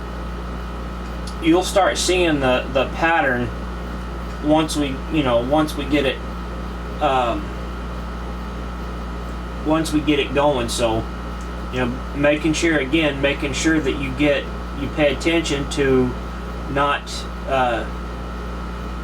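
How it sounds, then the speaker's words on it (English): Constant low hum of a room air conditioner running on a hot day, a steady drone beneath someone talking throughout. "And I apologize for the background noise, guys. It's my air conditioner."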